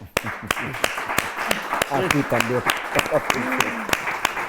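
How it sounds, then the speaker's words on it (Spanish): An audience in a talk setting claps in a crisp, evenly spaced rhythm while people speak over it. "yo creo que les vamos a dar un aplauso así para empezar"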